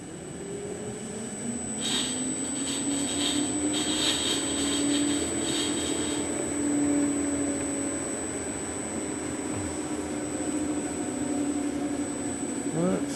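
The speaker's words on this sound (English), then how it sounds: "I can turn this up and do a higher idle" An electric car motor held at a raised idle with a throttle potentiometer gives a continuous whine and hum with a steady high tone, a slowly shifting pitch and faint talk in the background.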